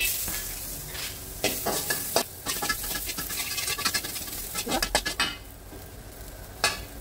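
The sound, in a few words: garlic frying in oil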